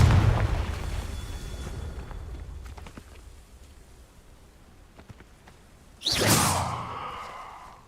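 A Confringo fire spell bursts in Hogwarts Legacy, a sudden loud blast with a whooshing roar near the end that decays over a second or two, after a quieter stretch of ambient rumble.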